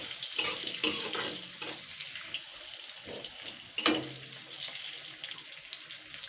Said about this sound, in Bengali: এবার এটাকে আমি আবারও 2-3 মিনিট ফ্রাই করে নেব আলুটাকে।